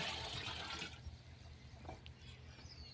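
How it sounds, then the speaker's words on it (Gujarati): Buttermilk splashes into a barrel of water, part of a farm bacterial culture mix with black jaggery; a loud pouring gush fills the first second, then fades to faint dripping and trickling. "આ છાશ છે એને પાણીમાં વેરી દેવાનું બેરલમાં"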